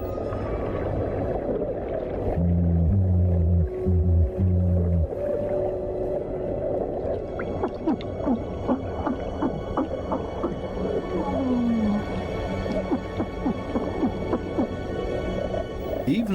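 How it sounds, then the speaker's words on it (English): A small porcupine fish bleats using its swim bladder amid a busy underwater reef soundscape, with low pulsing tones and scattered clicks and chirps forming a constant background murmur. "Even this little porcupine fish bleats around. It creates this sound with its swim bladder."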